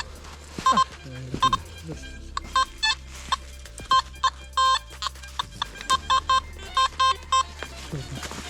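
Metal detector beeps chirp in short, uneven bursts, some repeating quickly, over faint background noise and occasional low voices in a forest.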